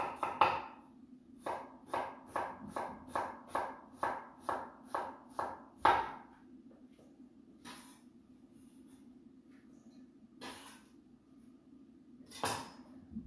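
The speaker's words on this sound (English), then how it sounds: "Right, so finely chopped onion." Knife finely chopping onion on a board: a quick run of about ten evenly spaced, crisp chops, then a few scattered, slower cuts separated by quiet pauses.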